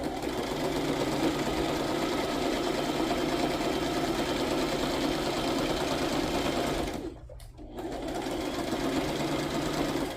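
Sewing machine running zigzag stitches across a handmade paper journal, a loud continuous mechanical whir with one brief pause before it resumes.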